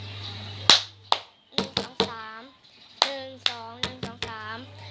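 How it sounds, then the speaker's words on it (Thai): Hands clap twice and then strike a tabletop three times, repeated as a practice rhythm for a glass-cup music game, with a voice speaking between and over the beats. "ปรบมือ2 ครั้งเสร็จแล้วปุ๊บก็ตีโต๊ะ3 ครั้ง"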